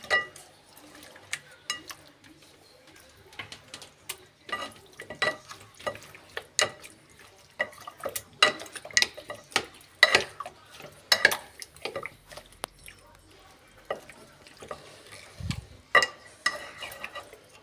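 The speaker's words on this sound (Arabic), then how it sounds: "نقلبها كويس ونخلي كل الفراخ تخش فيها التتبيلة." Chicken pieces are stirred and turned in a wet marinade in a bowl, giving irregular close clinks, scrapes and soft squelches that cluster and fade throughout, with no talking.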